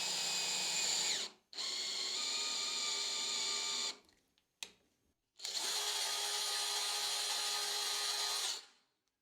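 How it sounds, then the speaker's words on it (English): A power drill cuts M4 threads into a handmade guitar bridge block, whining loudly in three long bursts with short stops between them, close and alone. "Now I just need to put the M4 threads in."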